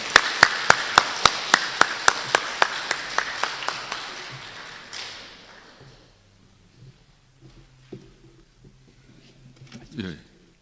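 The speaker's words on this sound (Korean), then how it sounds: "우리 집사님 앞으로 모실 때 큰 박수로 맞아주시기 바랍니다." A crowd at a church lecture claps in welcome, a burst of sharp applause that fades over about five seconds, followed by quiet shuffling and small knocks.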